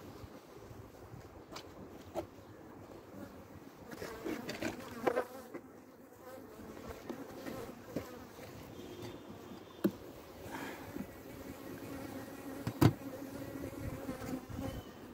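Steady insect buzzing from many honeybees close by at a hive during a February inspection, a continuous droning hum with occasional louder bees passing near.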